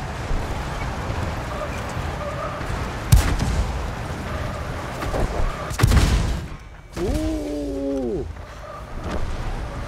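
Tank cannon fire in the World of Tanks video game: a few heavy booming shots with thuds and rumbling battle noise, plus a brief harmonic whine near the end.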